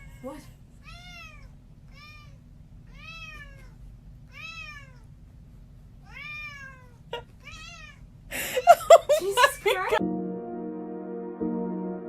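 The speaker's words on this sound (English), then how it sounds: "This cat was playing with a toy and it got stuck to its paw." A house cat with a toy stuck to its paw meows repeatedly in a steady series of short, clear, nearby cries over quiet room tone, followed by a burst of louder clatter and music.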